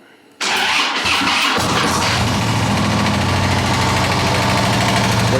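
Harley-Davidson Road King motorcycle from a salvage auction firing up for the first time: a sudden catch after a brief quiet moment, then a loud, close, lumpy idle rumble settling into a steady beat.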